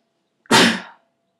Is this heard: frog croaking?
no